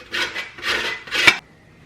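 A block of panela sugar is grated, making three rhythmic rasping scrapes close by, each a gritty, fairly loud stroke, followed by quiet.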